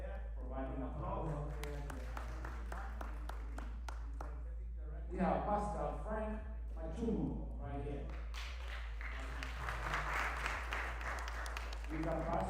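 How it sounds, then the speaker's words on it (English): Scattered audience applause for guests being introduced at a men's mental health community event, light irregular clapping swelling in bursts beneath someone speaking into a microphone. "Big round of applause."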